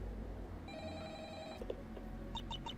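A phone ringing on an outgoing call to a contact in the game Assetflip Attorney: two clean electronic rings, the first long and steady, then a short burst of quick pulses, faint and isolated.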